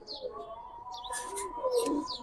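Giribaj pigeons, a pair of black birds with pearl eyes, give soft cooing and chirping calls at close range over a steady low hum, with bursts of higher chirps.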